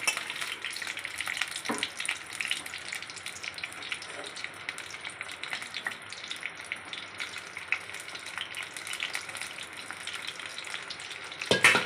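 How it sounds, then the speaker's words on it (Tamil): Marinated cauliflower pieces deep-frying in hot oil, a steady crackling bubbling sizzle that runs close and even throughout, with a faint clink near the end. "இப்போ வந்து காலிஃப்ளவர் அதை எண்ணெயில் போடலாம்"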